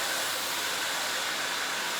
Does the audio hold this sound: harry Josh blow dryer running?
yes